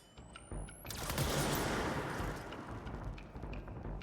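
Gunfire from the video game Control erupts in a dense, loud burst of rapid shots that rings out and tails off over several seconds, with no voices over it.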